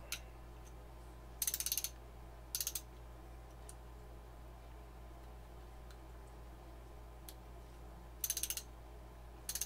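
A ratchet from a Deko homeowner tool kit clicks in rapid bursts, with a few short runs of sharp ticks as the faulty pawl skips over worn teeth, close and alone against a low steady hum.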